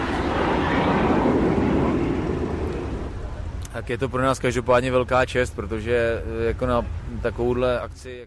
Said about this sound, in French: la patrouille de France est en train de survoler la Ferté-Alais